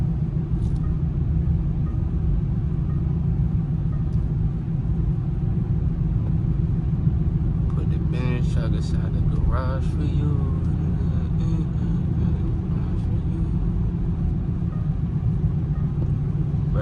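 A Range Rover SVR idles with a deep, steady engine rumble on a rainy night, continuous and close. Someone talks over it throughout.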